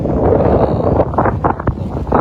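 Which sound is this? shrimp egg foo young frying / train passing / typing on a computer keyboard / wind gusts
wind gusts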